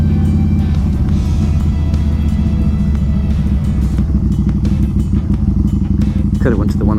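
A motorcycle riding to lunch: loud, close engine rumble with steady low drone and road clatter throughout, no pauses.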